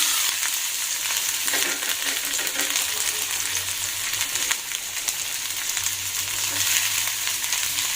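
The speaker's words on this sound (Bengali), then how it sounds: "দিয়ে দিব পেঁয়াজ কুচি" Chopped onion fries in mustard oil in a wok, giving a steady, dense, close sizzle that stays loud throughout with occasional stirring scrapes.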